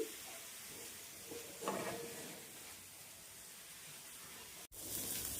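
Spinach frying in oil in a pan for a pickle, a quiet, steady sizzle and hiss with a few faint stirring scrapes and a brief break near the end.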